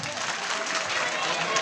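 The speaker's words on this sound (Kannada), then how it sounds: "ಅಕ್ಕಾರ ಅವರ ಯಾರ್ಯಾರು ಅದಿರ್ಲ ಎಲ್ಲಾರು ಜೋರ ಚಪ್ಪಾಳೆ ತಟ್ರಿ." An audience at a live Kannada comedy show in Dharwad claps steadily, a dense even patter of many hands that holds at a moderate level throughout without pauses.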